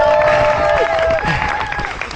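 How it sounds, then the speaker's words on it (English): Roadside spectators at the Hastings Half marathon cheering and clapping for passing runners: a dense wash of crowd noise with applause and a few raised voices, fairly loud and steady throughout. "the Hastings public coming out in force to cheer the runners on"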